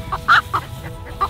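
A red Cochin rooster clucks several times in short, close, clear bursts against faint background noise.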